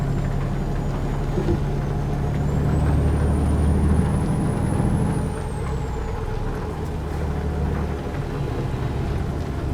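In American Truck Simulator, a truck engine rumbles low and steady as the rig pulls away from a green light. A rising whine builds through the first half before easing, and no one speaks.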